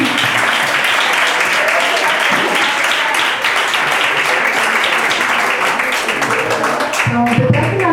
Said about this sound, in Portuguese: E vamos aplaudir o Senhor pela vida dos pastores